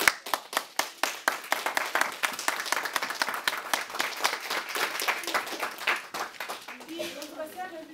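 A small congregation at a church gathering claps loudly, starting with a few sharp, distinct claps before building into a steady patter of hands. A voice speaks as the clapping dies away near the end.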